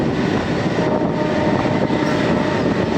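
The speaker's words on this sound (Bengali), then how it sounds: "পরে সিগন্যাল দেওয়াতে আবার ট্রেন ছুটতে শুরু করেছে।" A special train runs from Amghata toward Krishnanagar, a dense, continuous rumble and rattle of wheels and carriages heard from onboard, steady and loud throughout.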